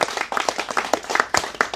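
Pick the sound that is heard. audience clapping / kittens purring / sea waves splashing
audience clapping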